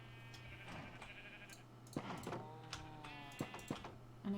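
Sheep in a video game bleat a few times in wavering, drawn-out calls over a steady low background hum, with clicks and soft thumps of play scattered between them.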